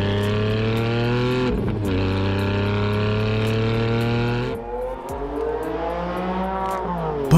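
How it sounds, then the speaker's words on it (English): A 2020 Porsche 718 Cayman GT4 with a manual gearbox roars loudly up through the revs, then its pitch falls away at a shift before climbing again. The engine note is close, strong and unbroken, with no talking over it. "Especially when you pair it with the manual gearbox and this exhaust note."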